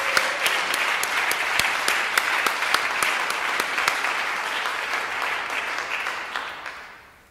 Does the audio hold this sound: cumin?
no